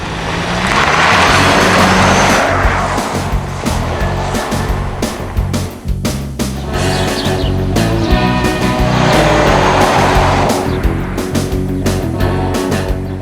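A Ford Escape Hybrid driving on the road, a steady engine and road roar throughout with a smooth rising and falling whoosh of passing motion, loud and continuous.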